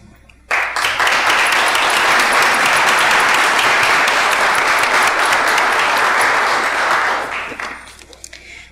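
A room full of people applauds veterans at a Bastrop city council meeting during a Veterans Day celebration. The clapping bursts in sharply, holds loud and steady for about seven seconds, then tapers off.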